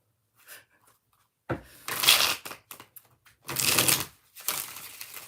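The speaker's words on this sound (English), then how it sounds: "Let's shuffle it 3 more times" Bursts of riffling and rustling like cards being shuffled, a few separate runs with short pauses between, close and fairly loud.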